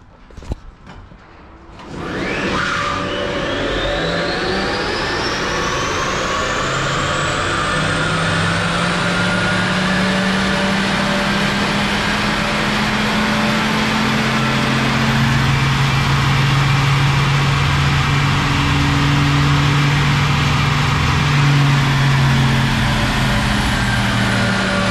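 A Renault Twizy runs hard on a rolling road dyno, a loud, steady drone of motor whine and roller noise building after a brief quieter start, with pitched tones sweeping upward over roughly twenty seconds.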